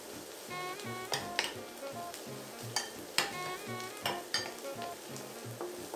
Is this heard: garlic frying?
yes